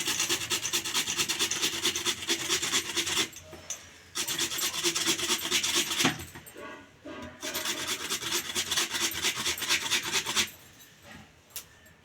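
A potato is grated in quick rasping back-and-forth strokes, a steady scraping run broken by a few brief pauses, close up with no voices.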